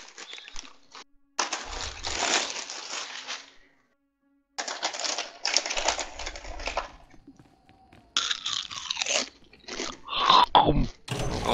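Someone munches food close to a computer keyboard in loud crunchy bursts, separated by short silences, with clicks and crinkles mixed in.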